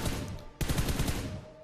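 Automatic gunfire in the PUBG Mobile video game, a rapid burst of close shots starting abruptly and rattling on steadily, with a softer stretch of fire before it.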